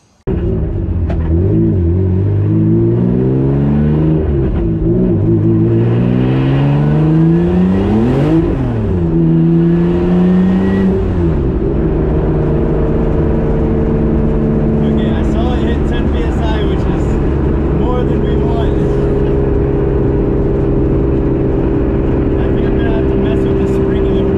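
A car running upgraded boost accelerates on a test drive, its engine droning and swelling through a couple of rising pulls before easing to a steady hum, with a voice talking over the noise.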